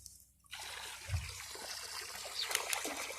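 Water from a solar-powered pump gushes steadily through a one-inch pipe, a close, continuous splashing flow that starts after a brief quiet moment, with no talking.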